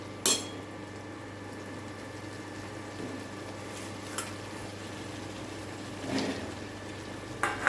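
Boiled eggs fry in a pan for egg curry with a soft, steady sizzle, broken by a few clinks of a utensil against the pan.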